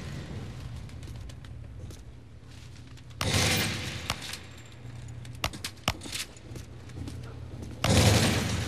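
Video game gunfire cracks in sharp bursts over a low background hum, with a couple of louder sustained volleys and scattered single shots in between.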